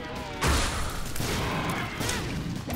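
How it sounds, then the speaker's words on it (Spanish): Explosions go off in The Binding of Isaac: Rebirth, a loud burst near the half-second mark followed by a dense, rumbling wash of game noise and a second swell later, with no clear pauses. "Buenas explosiones."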